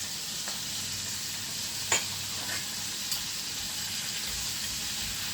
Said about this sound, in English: Frying very nicely.